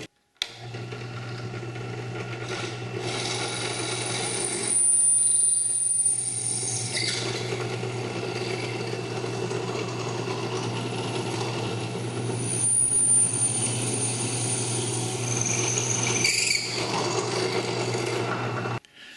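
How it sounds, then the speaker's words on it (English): Drill press driving a 3/16 bit through a part, a steady motor hum with grinding and rasping as the bit cuts, continuous for the whole stretch with slight dips in between. "The drill press was used with a 3/16 bit."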